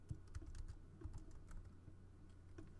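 Someone types a command on a Mac keyboard: quiet, irregular key clicks and soft thumps in short bursts, close and faint, with no speech.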